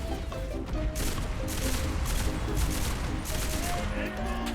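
A mounted machine gun from the Japanese faction in the Enlisted game fires in rapid loud bursts with heavy recoil and a fast rate, mixed with other battle noise and speech.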